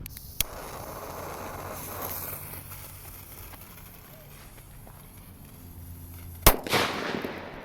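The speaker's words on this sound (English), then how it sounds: "we're gonna go ahead and give the lit dynamite here a try" A single sharp, loud M60 firecracker bang cracks near the end, followed by a brief crackle, after a quieter stretch of low background noise and a faint earlier pop.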